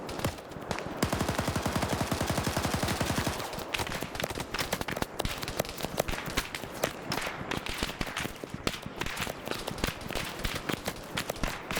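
Sustained machine gun fire in a Vietnam War combat game, SOG Prairie Fire, with a dense rapid burst for the first few seconds and then steady repeated shots and short bursts, loud and continuous with no talk.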